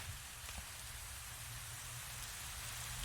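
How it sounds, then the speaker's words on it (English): Steady rain falls in the animated series Metal Family, making a constant broadband hiss of drops. It runs evenly throughout with no voices. "Don't stand in the rain."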